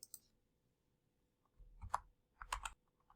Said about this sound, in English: So I'm going to type in a new password.